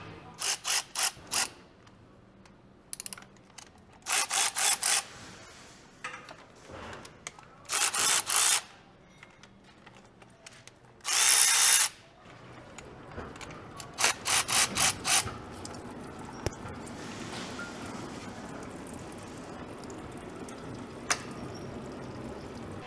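A ratchet socket wrench clicks in repeated quick bursts while bolts are broken loose and backed out of a Ford F150 10R80 transmission pan, with rattles and scraping of metal between the bursts.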